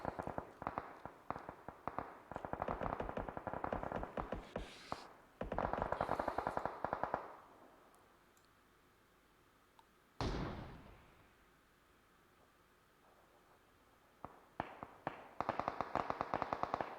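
Gunfire from a PUBG Mobile match, with an AWM sniper rifle and answering weapons: dense crackling volleys in two runs, then one sharp, loud shot that rings out and fades, and more rapid fire near the end.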